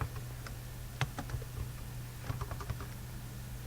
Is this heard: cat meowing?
no